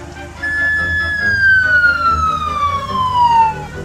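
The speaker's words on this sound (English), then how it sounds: "Ambulance." An ambulance siren wails in one long, steadily falling tone, loud and close, over a low rumble of traffic.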